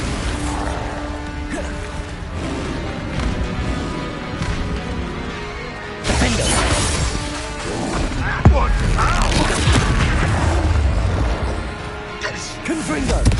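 Bombarda and Confringo spell blasts in Hogwarts Legacy combat: repeated booming explosions and crashing impacts in a dense, loud battle, with a voice talking over the action throughout.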